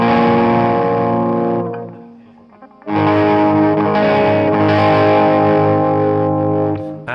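An electric guitar strums heavy, distorted chords to end a song, loud sustained chords that fade briefly, then a second long chord rings out, with no voices.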